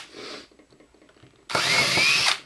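A power drill boring into wood for a shot rack, a short faint burst followed by a louder, sustained whirring drill run close by, with no talk.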